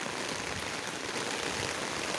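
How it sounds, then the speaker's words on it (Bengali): Heavy morning rain falls outdoors, a constant broad wash of hiss at even loudness throughout, with no voices. "চারিদিকে ভীষণ বৃষ্টি হচ্ছে।"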